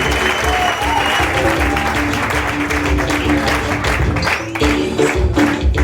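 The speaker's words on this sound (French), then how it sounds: "Applaudissez très pour Rose Kavango." Loud, dense applause from a comedy festival crowd in Goma fills the space continuously, with some crowd voices and a faint tonal hum mixed beneath the clapping.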